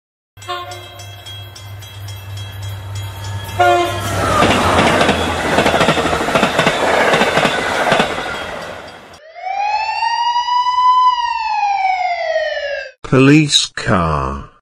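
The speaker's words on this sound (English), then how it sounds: "Police car." After a passing train's horn and rumble, a police siren wails in one long rising and falling sweep, followed by a short burst of voices.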